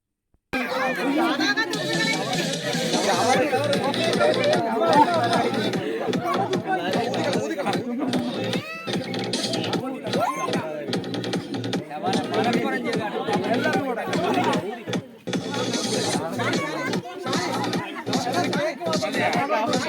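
Relatives and guests at a Kerala pre-wedding eve cake cutting, a lively crowd chattering, laughing and calling out nonstop in loud, overlapping voices close by.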